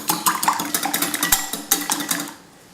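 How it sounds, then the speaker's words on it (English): Eggs are whisked in a bowl, quick repeated clinking taps of the whisk against the bowl in a steady close rhythm for about two seconds, then stopping. "So I'm just going to whisk the eggs."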